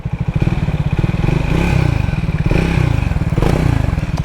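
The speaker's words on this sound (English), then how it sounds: "It's got that little single cylinder tractory sound that I love." Triumph Speed 400 single-cylinder motorcycle engine accelerating on a ride, a loud, close, rapid thumping pulse with a gritty tractor-like beat that holds steady and rises slightly in pace throughout.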